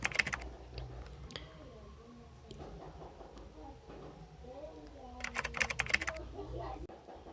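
Keys clatter on a computer keyboard while code is typed, with soft clicks through the clip and a denser, louder burst of rapid keystrokes near the end over a low background hum.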